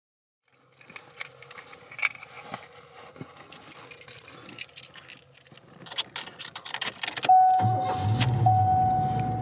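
A 1989 Cadillac Brougham with 75k miles in amazing condition: keys jangle and click in the ignition, then the engine cranks and settles into a steady, fairly quiet idle, heard close from inside the car.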